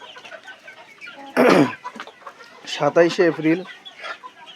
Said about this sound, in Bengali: আজকে আমার খামার থেকে আপনাদেরকে এই ডিমের জন্য রেডি করা কিছু ফার্মি মুরগির ভিডিও নিয়ে আসলাম